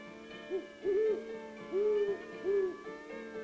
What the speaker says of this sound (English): The owl's call came closer, from high up in the trees on the edge of the meadow.